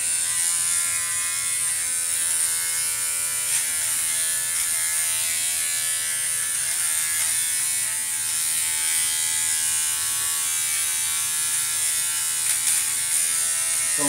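A Conair electric nose trimmer buzzes steadily and close up for the whole stretch, a continuous bright whine with small shifts as it works inside the nostril, with no talking over it.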